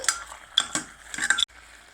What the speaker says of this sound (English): then add 3 tomatoes chopped roughly, saute it well